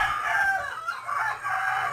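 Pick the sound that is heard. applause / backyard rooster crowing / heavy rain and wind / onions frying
backyard rooster crowing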